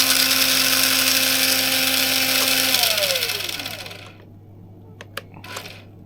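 A small RC car motor shrieks with a high, steady electric whine at full throttle, then spins down in a falling pitch and cuts out, leaving faint clicks and handling noises close by.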